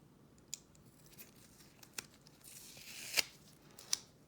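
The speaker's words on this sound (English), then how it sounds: "Let's see if we can get this tape off of here." Tape is carefully peeled off a football trading card, giving a quiet, close crackling tear with a few sharp ticks and a longer rasping pull near the end, with no talking.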